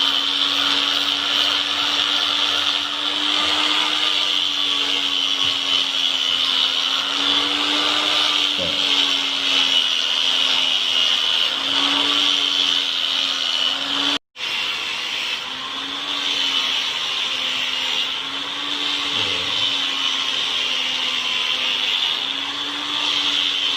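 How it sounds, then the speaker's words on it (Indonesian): A grinder runs steadily for a long stretch while sharpening a 10-inch Solingen Don Carlos kitchen knife, giving a loud, constant high whine that cuts out briefly once before resuming. "Itu harus pakai di gerinda, nggak bisa langsung di atas."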